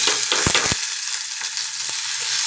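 Chopped onion, garlic and curry leaves drop into hot oil in a pressure cooker pot, giving a few sharp thumps and a loud, close, steady sizzle.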